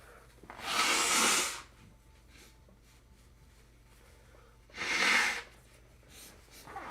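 A person blows their nose twice, two loud, breathy honking bursts about four seconds apart, close up against quiet background hum.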